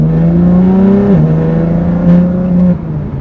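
A BMW M4 GTS with the S55 engine and a Dinan titanium muffler holds a loud, steady, close drone with a brief dip in pitch, then eases off near the end.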